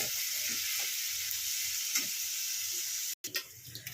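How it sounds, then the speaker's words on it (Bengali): Potato pieces fry in a pan with a steady, even sizzle and soft stirring scrapes, ending in a brief clunk as a utensil hits the pan. "এবার আলুটাকে ভালো করে ভেজে নিয়ে ফিরছি।"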